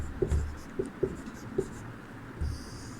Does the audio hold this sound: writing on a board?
yes